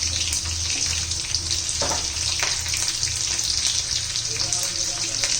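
Chopped green chillies and crushed garlic fry in hot oil with mustard and cumin seeds for a papaya stir-fry, giving a loud, continuous sizzling hiss with a few brief crackles.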